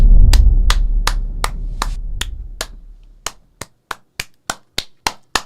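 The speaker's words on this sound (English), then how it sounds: "I'm clapping my hand." A single person claps their hands in a steady, evenly spaced series of about fifteen sharp, close claps, first over a low rumbling background that fades away, then alone and ringing out clearly.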